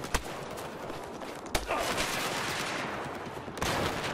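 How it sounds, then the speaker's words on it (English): Dense, noisy bursts of machine-gun fire from the video game Battlefield 4 continue almost without a break, with a few sharper cracks standing out in the loud sustained roar. "It keeps shooting."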